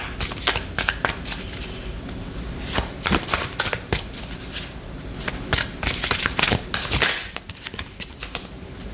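Tarot cards being shuffled by hand during a card reading, a run of quick papery riffles and snaps in irregular bursts, close and fairly loud, with no talking.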